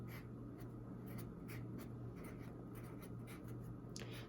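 Pencil scratching on paper while writing a short label, a faint, quiet series of light strokes over a steady low hum, with no talking.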